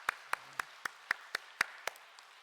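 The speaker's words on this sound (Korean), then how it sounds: "우리 박수로 하나님께 영광 돌리겠습니다" A church congregation at a revival service claps in unison, nine or so distinct, evenly spaced claps in a steady rhythm, close and clear against a quiet background.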